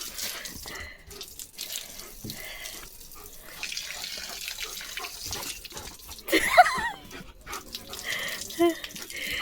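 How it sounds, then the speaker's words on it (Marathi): Water from a hose splashes and sprays in uneven bursts during Holi celebrations at night, with a stronger gush near the end, as people talk and shout in the background. "झाडाला जाऊ दे ना पाणी"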